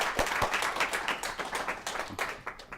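A round of applause from a small audience at a tech meetup in Edinburgh, a brisk patter of many hands clapping, moderately close, with no talking over it.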